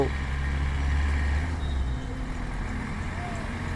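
Road traffic streams from the Agra side into Gwalior on the AB Road national highway near Atal Gate, a steady roar of trucks and cars passing close, with a heavy engine rumble fading out partway and talk in the background.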